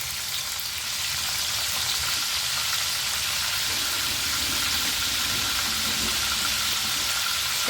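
Sweet corn kernels frying in hot oil, a steady loud hiss and crackle that holds evenly throughout, with no talking.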